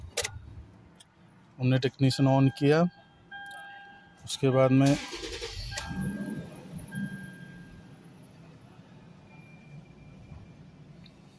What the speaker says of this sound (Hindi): फिर हम गाड़ी अभी स्टार्ट कर रहे हैं